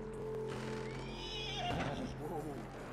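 A horse whinnies in the video game Red Dead Redemption 2, a rising then wavering neigh over hoof clops and a steady game soundscape with a low hum, moderately loud.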